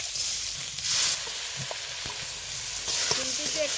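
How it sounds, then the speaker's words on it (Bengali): Masoor lentils fry in a little oil in a wok, giving a steady close hiss with occasional light scrapes and knocks, no voices. "ওইখানে একটু সামান্য কড়াই তেল আছে ওই তেলে দিয়ে দেবো মসুর ডালটা"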